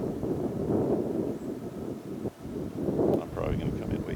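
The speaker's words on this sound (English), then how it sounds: "the wind has not been our friend" Gusty wind buffets the microphone at a model glider flying field, a rough, rumbling roar that swells and dips, with a person talking through it.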